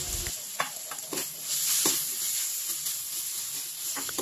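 Chicken pieces frying in plenty of oil with garlic and onions in a pan, a steady loud sizzle with occasional stirring clinks and scrapes.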